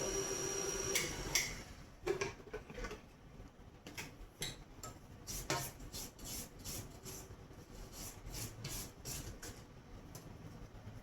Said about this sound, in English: we'll scrape down my bowl a little bit